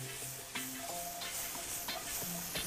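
Garlic sizzles in a hot pan of oil and bacon drippings while being stirred, a steady frying hiss broken by a few brief scraping stirs across about three seconds, with no talking.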